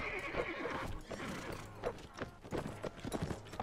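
Horses neigh and gallop during a medieval battle among trees in Mount and Blade Warband, with shrill whinnies over busy hoofbeats and clashing battle noise.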